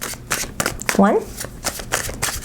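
A tarot card deck being shuffled up close: a quick burst of riffling, flicking cards, with a person talking over and around it.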